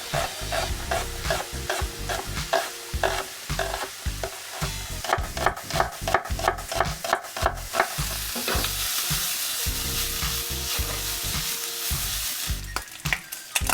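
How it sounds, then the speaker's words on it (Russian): Bacon frying in a pan, rendering its fat as it crisps: a loud, steady sizzle and crackle with frequent stirring scrapes and clatter running throughout, no voices. "обжариваем бекон"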